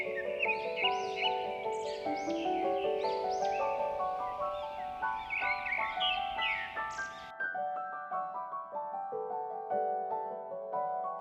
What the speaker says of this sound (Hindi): जंगल में पक्षियों की मीठी आवाजें थीं।